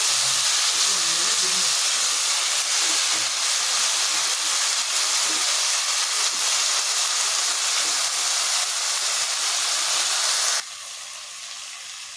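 Pointed gourd and tomato sauté in a hot pan with a loud, steady sizzle and hiss that runs unbroken, then drops to a quieter simmer near the end.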